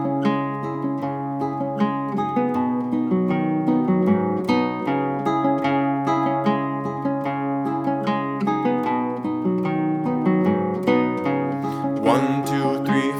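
Fingerstyle acoustic guitar plays an Andean piece, steady plucked melody over thumbed bass notes in an even rhythm, close and clear with no talking, a brief brushed scrape near the end.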